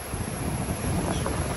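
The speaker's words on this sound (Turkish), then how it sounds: "Şimdi rüzgar sesi geliyor mu bilmiyorum." Steady wind buffets the microphone outdoors in a village beside a stream, a continuous broadband rush with no pauses.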